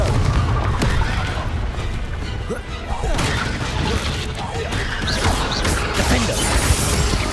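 Confringo blasting spells in Hogwarts Legacy burst repeatedly through a dense, noisy battle mix, with crashing booms and impacts layered over continuous combat clamor and spoken voices.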